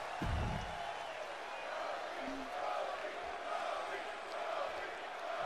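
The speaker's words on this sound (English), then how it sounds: "Crowd still very much behind Cody Rhodes" Crowd cheering in a wrestling video game, a steady broad roar of arena noise with faint game commentary talk running over it throughout.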